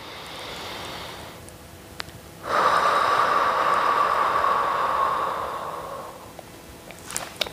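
A person breathes deeply during a guided exercise, one long, loud airy exhale rushing steadily for several seconds after a brief quieter intake, close to the mic with no talking.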